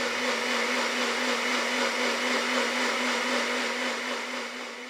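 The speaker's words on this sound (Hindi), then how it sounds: "बिल्कुल फाइन ग्राइंड कर लेंगे।" A blender grinding jaggery with a cup of cold water whirs loudly and steadily at high speed, grinding without pause, then eases slightly toward the end.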